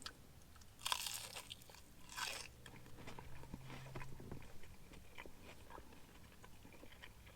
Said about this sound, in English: So let's check out the crunch factor.